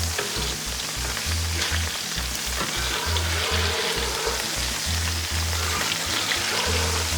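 Grease sizzles loudly on a Blackstone griddle while a metal scraper pushes it toward the drain, a constant frying hiss with rhythmic scraping strokes throughout.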